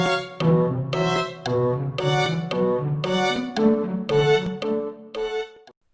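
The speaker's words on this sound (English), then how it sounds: "I have added a metronome to count the pulse." Orchestral rendition of In the Hall of the Mountain King, with a metronome click marking the pulse under a steady run of short detached notes, loud and close, ending on a fading note.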